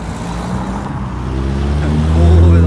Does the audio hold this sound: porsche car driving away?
yes